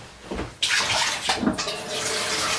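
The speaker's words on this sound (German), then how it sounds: "Dann mache ich ihr mal frisches Wasser rein." Fresh tap water gushes into a pet's drinking bowl, a close splashing flow that starts suddenly and then runs steadily.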